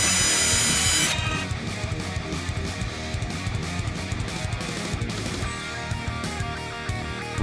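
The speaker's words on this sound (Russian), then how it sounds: "завершаем наши танцы с бубном установкой фиксирующих шурупов" A powered screwdriver drives fixing screws into a homemade softbox frame, starting with a short loud whir and then giving way to a close, busy clatter of ratcheting and rubbing.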